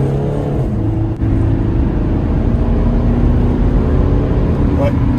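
Mercedes C-Class cabriolet with a dual-clutch gearbox, engine droning and revving steadily under way, loud and continuous with road and wind noise, while people talk inside the car.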